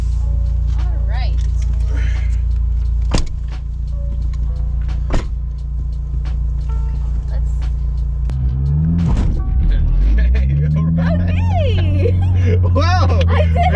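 Turbocharged 8th-generation Honda Civic with a manual clutch pulling away hard, a deep steady engine rumble rising in pitch as revs climb, heard up close from inside the car with people talking over it.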